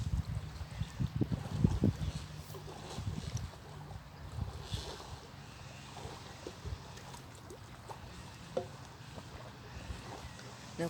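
Wind gusts and small lake waves lap at the shore at Traunkirchen, with a soft continuous rush, occasional splashes and faint microphone buffeting.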